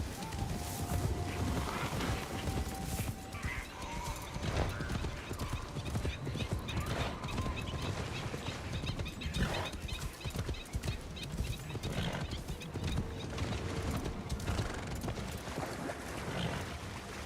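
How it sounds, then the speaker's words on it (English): A horse in the video game Assassin's Creed Shadows swims and moves through water. Steady clip-clopping and splashing run throughout, with a few whinnies, under a faint voice now and then. "Come on, horsey, you can do it. It's actually swimming."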